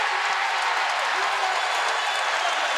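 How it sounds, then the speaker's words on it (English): The Hilton Coliseum crowd at an Iowa State versus Kansas State college basketball game cheers and claps loudly, a steady roaring wash of sound. "Here comes the Hilton crowd"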